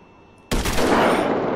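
Gunfire aimed at a fast-moving jet in the video game GTA V bursts in suddenly after a short quiet lead-in, then carries on as a loud, dense, sustained roar of shots.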